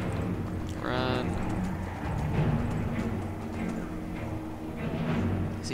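Rhythmic clip-clop of a horse galloping in a modded playthrough of the video game Skyrim, with a brief whinny, while a voice talks over the hooves.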